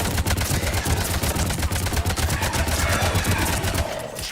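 Rapid gunfire rattles through a Mass Effect 3 firefight as a dense, continuous stream of loud, close shots with heavy low thumps, running without pause and with no voices.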